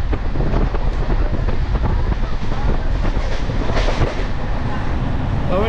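A local train on the Kolkata to Puri run, moving on a foggy winter morning and quickly picking up speed after departure, gives a steady, loud rumble with wind buffeting throughout.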